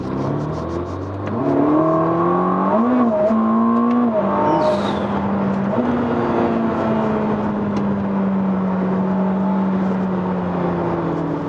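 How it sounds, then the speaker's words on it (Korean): A Ferrari hybrid turbo car engine fires up and revs as it accelerates through sport and race modes, a loud, close, steady drone with rising and falling pitch sweeps, without talk. "그러면 이제 엔진이 시동이 걸리고요"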